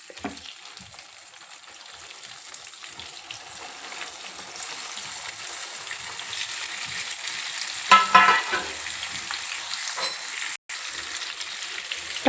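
Chunks of brinjal hiss and sizzle steadily in hot oil with turmeric in a pan over a low flame, a continuous frying noise that swells briefly with a louder burst of crackle partway through, with no voices.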